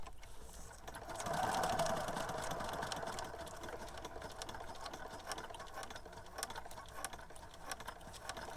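A sewing machine runs a straight stitch around burlap leaf ribbon with a steady mechanical whirr and rattle, swelling briefly louder near the start, then continuing evenly and quietly at close range without speech.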